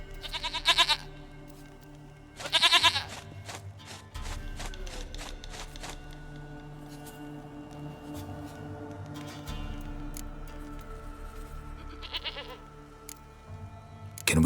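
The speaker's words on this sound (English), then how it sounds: "Goat of mine, dearest, sweetest goat." A goat bleats in The Witcher 3: Wild Hunt, with two loud, close bursts near the start and fainter scattered calls later, set over a low game ambience with no talk.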